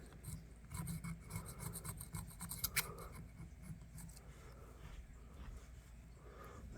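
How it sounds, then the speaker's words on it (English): Rough rasping scrapes work rust and dirt out of an antique pocket knife, a close, steady run of gritty strokes lasting several seconds with one sharper scratch midway. "So let's just scrape on it here a little bit, see if we can scrape any of that out."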